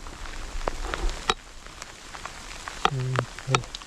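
Heavy rain patters steadily on surfaces at an outdoor rocky site, a constant hiss of drops with scattered sharper taps, while a voice speaks briefly near the end.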